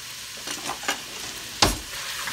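Onions, garlic and carrots frying in a pan under a steady sizzle, with a spoon scraping and stirring them in a few distinct strokes, one louder clack near the end, close and with no talking.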